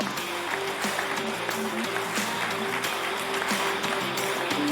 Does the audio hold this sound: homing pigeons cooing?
no